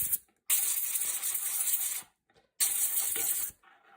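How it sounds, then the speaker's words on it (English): Two long hissing bursts of compressed air from a small 20-pound compressor blowing out a gun during cleaning, each lasting about a second and a half with a short pause between, loud and close. "you reach for your 20-pound compressor and blow it all out again"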